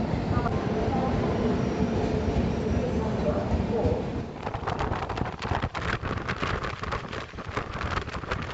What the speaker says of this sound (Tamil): நம்ம அடுத்த வண்டி சோழன் எக்ஸ்பிரஸ் வந்து வந்துட்டுருங்க